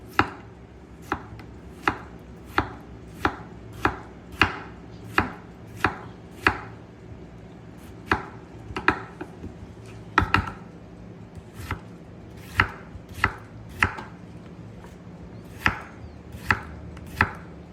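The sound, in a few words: knife slicing tomato thinly for a club sandwich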